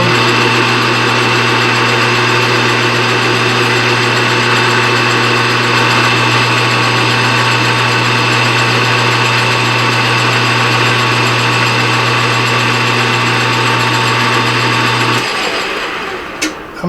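A metal lathe or similar machine takes a cut on a valve guide removal tool, running as a loud, steady mechanical hum with a constant whine for about fifteen seconds before the drive winds down and a small clatter follows.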